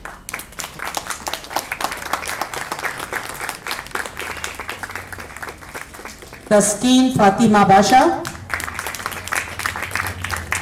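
An audience at a speaking event claps steadily for speakers called on stage, a dense close patter under a voice announcing names, then briefly drowned by louder cheering before the clapping continues.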